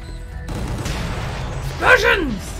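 Explosions and gunfire from the action video game Gungrave G.O.R.E, a dense rumbling barrage with a louder burst near the end, heard under steady game noise.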